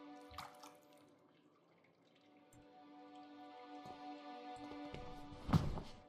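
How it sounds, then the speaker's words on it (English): Grimy, soot-laden water trickles and drips from a pipe in the game The Last Door, a quiet steady flow with scattered drops, over a low humming ambient drone and a louder splash near the end. "From the pipe flows grimy water, full of soot."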